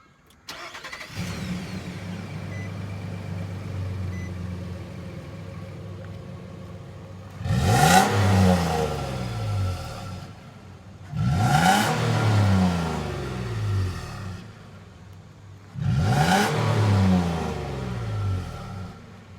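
A 2012 Nissan Frontier PRO-4X engine cranks over and settles into a steady idle, then revs rise through three strong, loud accelerations as the pickup drives off, each surge climbing and then easing back.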